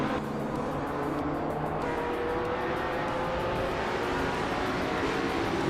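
A pack of race cars, led by a classic 1964 Ferrari 275 GTB, roars steadily at the start of a racing game event, with a dense, continuous engine drone and a faint tire squeal.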